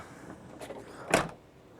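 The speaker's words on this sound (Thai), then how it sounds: "ขออนุญาตเปิดประตูท้ายนะครับ อ๋อประตูเป็นไฟฟ้านะครับ" Electric power tailgate on a 2015 Mercedes-Benz ML 250 CDI AMG opening: a soft motor whir with a brief latch clunk, close and fairly quiet, with no talking.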